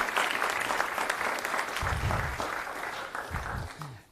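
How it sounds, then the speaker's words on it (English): Audience applause for startup founders at an IDEAcorps event: dense sustained clapping from a crowd, fairly loud and steady, thinning out near the end. "a big round of applause to all of our founders"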